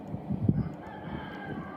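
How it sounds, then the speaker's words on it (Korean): Brief crowing from a rooster at dawn in Israel, a short call heard at a distance over low ambient rumble. "그 닭 우는 소리가 들리더라고요."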